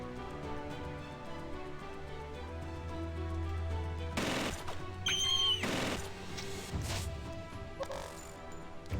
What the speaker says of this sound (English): we can switch to the submachine gun now